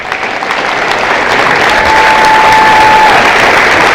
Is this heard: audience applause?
yes